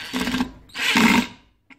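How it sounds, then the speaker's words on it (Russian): A cheap AliExpress impact screwdriver drives a screw into a piece of wood, with two loud buzzing bursts of motor whine and rattling impact, followed by a brief faint click. "Вот, допустим, нам надо вкрутить в деревяшечку."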